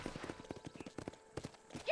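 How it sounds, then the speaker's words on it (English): Horse hooves clip-clop in Red Dead Redemption, a brisk steady trot of close hoofbeats with a voice speaking over them and a short snort or whinny at the end. "Control that horse, will ya?"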